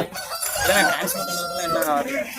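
A rooster crows loudly and close at a busy weekly livestock market in Kunnathur, Tirupur, with market chatter and other fowl sounds mixed in beneath.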